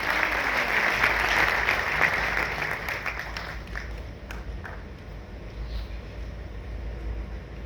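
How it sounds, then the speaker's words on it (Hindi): Warm applause from an audience at a book launch ceremony in Indore, loud dense clapping that starts strong and gradually thins and fades over several seconds. "जरा तालियों की गड़गड़ाहट से उनका हम स्वागत करें।"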